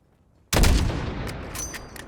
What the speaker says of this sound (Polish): Kiedy będziesz gotowy, strzelaj.